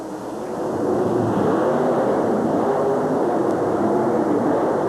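A monster truck launches off the starting line in a 1991 USHRA qualifying run at Roanoke, a loud, continuous engine roar that swells in the first second and then holds steady and rough.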